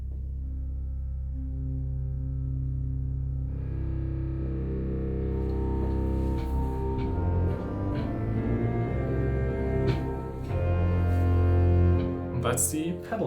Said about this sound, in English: And if we combine all of them slowly, it sounds like this.